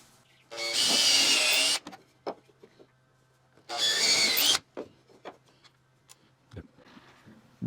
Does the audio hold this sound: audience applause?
no